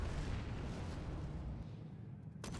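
A Colossus tank cannon fires in PlanetSide 2, a loud booming blast whose low rumble decays over the clip, followed by a faint short click near the end.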